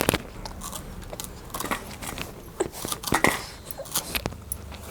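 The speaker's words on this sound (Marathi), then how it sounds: "कोथिंबीर सुद्धा आपण चिरून घेऊया" Rapid, uneven crisp chopping taps, as a knife cuts through leafy coriander on a board. The sound is close and there is no talking.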